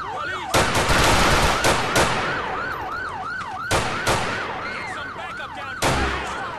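In the GTA IV police mod LCPDFR, sharp bursts of gunfire crack out at intervals over a loud wailing police siren close by.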